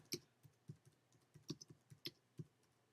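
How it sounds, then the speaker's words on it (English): Fingers tap on a computer keyboard in a quiet room, giving a sparse, uneven run of close, crisp keystrokes with short pauses between them. "Oh, looking at my fingers when I type."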